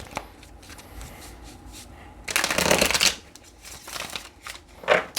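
A deck of tarot cards is shuffled close by, a soft riffle followed by a louder burst of rapid flapping cards, then a few shorter shuffles.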